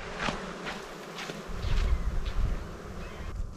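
A dense swarm of flies buzzes steadily at a salt flats lake on the shore of ancient Lake Bonneville in Utah, a close, continuous drone with louder passes and soft wind noise underneath.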